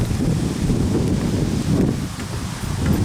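Steady outdoor wind roars and buffets the microphone for the whole stretch, loud and continuous with slight swells, no speech.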